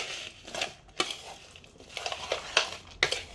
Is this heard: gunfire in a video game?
no